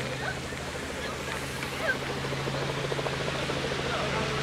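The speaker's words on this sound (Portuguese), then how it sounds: "Começaram o passeio em helicóptero, por isso você vai estar escutando um pouco do barulho do helicóptero" A helicopter on a tour flight drones in the distance with a low, steady hum that persists under faint background ambience and outdoor sounds in a park.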